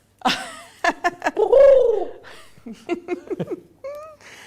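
A person imitates a dove's cooing with their voice, giving a throaty warbling coo among breathy clicks and short vocal chirps, loud and close, followed by a brief laugh-like trill.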